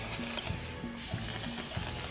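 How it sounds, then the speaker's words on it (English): Short bursts of aerosol spray hiss onto a piston skirt during the rebuild of a Sears Custom 10XL engine, several quick spurts in a row, close and fairly quiet. "we'll spray a little bit on the skirt"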